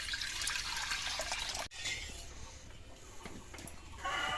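Liquid milk pours into a cooking pan in a steady, close splashing stream that breaks off briefly, then resumes as a softer trickle before growing fuller again.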